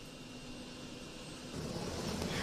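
A royal helicopter arrives at a temporary helipad at Wat Phra That Doi Wiang Kaeo in Chiang Rai. The engine and rotor noise is distant and faint at first, then swells louder as the aircraft approaches.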